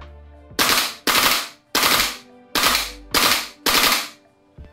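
A VFC airsoft LAR (FAL) rifle fires six sharp, loud automatic bursts in quick succession, each a rapid rattling volley separated by short pauses, close up and with no talking.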